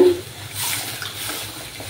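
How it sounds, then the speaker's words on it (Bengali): Milk pours into a pan for mango sewai, a soft, steady liquid splash and gurgle lasting about two seconds, close and quiet. "এবার আমি দুধ দিয়ে দেব।"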